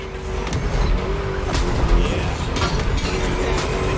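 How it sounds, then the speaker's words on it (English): A deep, throaty V8 muscle car engine in The Crew Motorfest roars continuously, its pitch rising and falling as it accelerates, with occasional faint tire squeal. "Just listen to that V8 like a chonky, down-tuned guitar riff."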